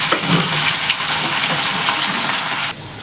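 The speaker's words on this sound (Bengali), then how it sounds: "কড়াইটা একটু গরম হলে মাছগুলো ছেড়ে দেবো একে একে" Khoira fish pieces fry in hot oil in a karai, giving a loud, steady sizzling hiss up close that cuts off abruptly near the end.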